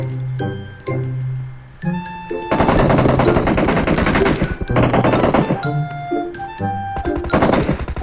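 Gunfire in the battle-royale video game PUBG: repeated automatic bursts of rapid shots, loud and close, broken by short pauses and mixed with chiming in-game tones.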